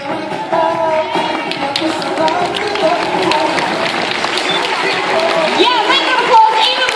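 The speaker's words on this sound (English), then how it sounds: "make an applause even louder as they leave the stage" Sustained audience applause at a cosplay competition stage show as cosplayers walk off, loud and steady clapping mixed with crowd chatter for several seconds.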